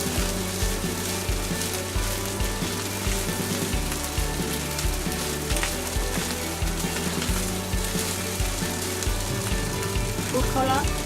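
Fried rice with shrimp sizzles steadily in a pan, a dense continuous crackle with rhythmic scraping or stirring pulses throughout, loud and close.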